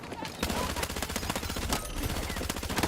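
Sustained automatic gunfire in Battlefield 6, a dense rapid burst of shots from penetration rounds, loud and close, running continuously through the whole stretch.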